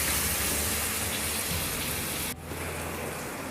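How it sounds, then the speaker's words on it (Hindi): Tomatoes frying in a pan for spicy puffed rice snack murmura chatpati, a steady dense sizzle like rain that drops briefly and continues without talk. "टमाटर को उतना ही हम फ्राई करेंगे"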